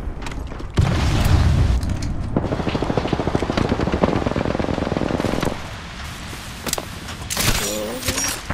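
In the Apex Legends video game, a grenade goes off with a loud boom, followed by sustained crackling and rattling gunfire and game effects, with a voice speaking briefly.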